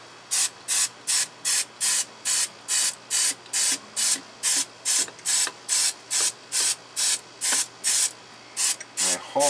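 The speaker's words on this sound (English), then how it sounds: "Let's get in here and spray it down with some fluid film." An aerosol can of Fluid Film rust-proofing spray hisses in about eighteen short, evenly spaced bursts on the steering gear of a 1997 Crown Victoria Police Interceptor, close and loud, with brief pauses between each spray.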